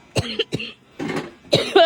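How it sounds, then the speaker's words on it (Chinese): A child coughs in a rural village home: about four separate harsh, fairly loud coughs in quick succession over two seconds, close by, the last one ending in a rough, raspy breath. "咳嗽。"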